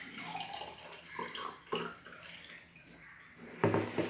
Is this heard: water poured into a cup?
yes